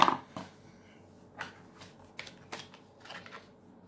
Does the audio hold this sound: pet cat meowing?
no